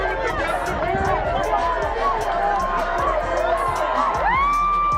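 A loud boxing arena crowd cheers and whoops after a fight, a dense continuous roar of voices with scattered shouts and whistles, close and unbroken for the whole stretch.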